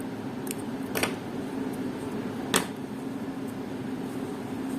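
Scissors snip through crochet yarn in two or three short, crisp cuts over a quiet room hum, with no one speaking.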